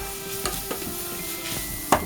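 Garlic, leek and onion fry together in a pan with a steady soft sizzle, broken by a few sharp scrapes and knocks as the mixture is stirred.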